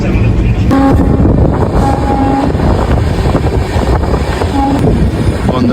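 The Darjeeling Mail train runs on the line near Kishanganj, heard from inside a general coach as a loud, continuous rumble and rattle of wheels and carriages, with wind buffeting the microphone.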